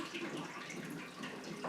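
Sugar water for blueberry wine streams steadily into a vessel, a continuous close liquid pour with a bright splashing hiss and no pauses.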